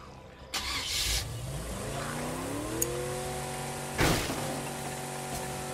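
A car engine in State of Decay 2 cranks to life and climbs steadily in pitch as the vehicle pulls away and drives, a sharp knock partway through, steady engine hum continuing.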